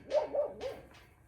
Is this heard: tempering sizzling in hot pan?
no